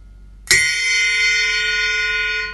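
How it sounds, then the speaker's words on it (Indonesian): A single strike on a bell cymbal stacked on top of a ride cymbal on a drum kit, a sharp bright ping followed by a long, clear, shimmering ring that slowly fades. "Ini namanya bell."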